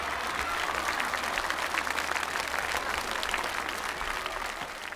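A studio audience at a Chinese TV music competition show applauds in a dense, steady wash of clapping that holds evenly for several seconds.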